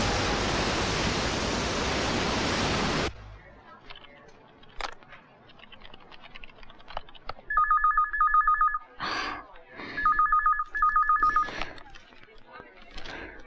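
A telephone rings in a Hindi film scene, two bursts of an electronic double-tone ring close and loud after a rush of noise cuts off, with short speech and movement sounds between the rings.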